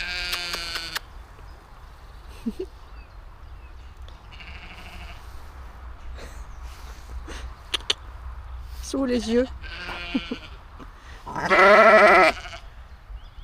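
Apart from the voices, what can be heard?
sheep bleating in a field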